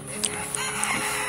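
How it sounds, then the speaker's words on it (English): Silkie chickens on a farm give a few soft, brief clucks, close by and spaced over about a second against a steady outdoor background hiss. "I love my silkies. They are the sweetest things."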